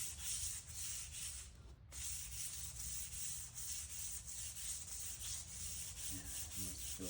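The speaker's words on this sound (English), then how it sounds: "Alright, I got a little 600 grit here." 600-grit sandpaper rubs by hand over a curly birch knife handle in soft, steady back-and-forth strokes, close but faint, with a brief pause partway through.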